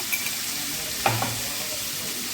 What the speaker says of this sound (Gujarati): આવી રીતે હલાવી અને આપણે થોડીક વાર સાંકળી લઈશું